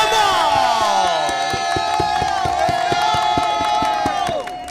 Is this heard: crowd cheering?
yes